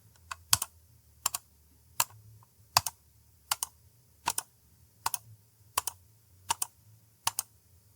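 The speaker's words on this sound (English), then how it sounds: "Tell me how many times I click the mouse." Computer mouse clicks come crisp and close in a quiet room, about a dozen sharp single and double clicks spaced unevenly across the stretch, with nothing else audible.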